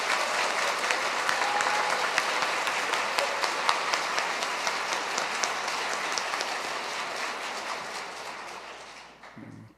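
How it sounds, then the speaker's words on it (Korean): A church congregation at Mass applauds the priests, a long, steady, fairly distant patter of many hands that tapers off and stops near the end. "감사의 박수 한번 보내주십니다"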